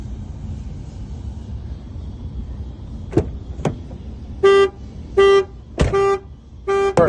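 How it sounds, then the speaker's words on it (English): A 2019 Ford Explorer's alarm sounds as a few short horn honks repeating at a steady beat, loud and close, after some clicks and knocks in a quiet vehicle interior. "We got the alarm off."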